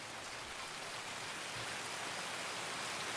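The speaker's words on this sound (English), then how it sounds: "Yo, I think it might be raining." Steady rain in the Streets of Tarkov map of Escape from Tarkov, a constant even hiss of drizzle filling the whole clip with no voices.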